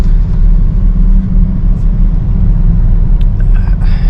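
A steady, low V8 engine rumble from a 2023 BMW XM runs throughout, loud and close, with a faint higher whine near the end.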